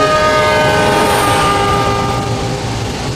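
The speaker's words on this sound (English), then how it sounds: "you hear the pitch of the whistle get lower and lower in frequency." A loud train horn sounds over heavy rumbling, the tone sliding slightly lower as the train recedes into the distance.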